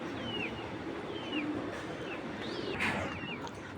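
Racing pigeons coo and call softly at a distance, a few scattered warbling notes over a steady hum of ambient background noise.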